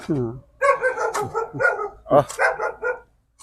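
Dogs on a rural farm estate bark at a stranger, with loud, close barks and yips mixed with people talking nearby.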